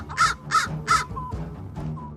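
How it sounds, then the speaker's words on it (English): A crow caws three times, sharp and piercing, in quick succession outdoors, then gives a couple of fainter, softer calls. "The crow stretches and suddenly lets out a sharp, piercing caw."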